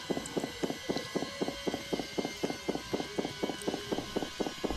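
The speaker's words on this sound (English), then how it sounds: "I hear footsteps" Steady footsteps in the Roblox game Recursion, an even rhythm of about sixteen soft thudding steps at a walking-to-jogging pace, moderately close over a faint background hum.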